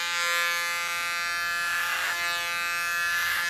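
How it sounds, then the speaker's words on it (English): Electric hair clipper run over a comb during a haircut in a salon, a steady close buzzing drone with slight shifts in tone as the blades move through hair, no talking. "Clipper over comb."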